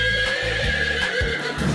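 A horse neighs in an animal video game, giving a loud, continuous whinny that fills the short moment, with pulsing vibrato and no talk over it.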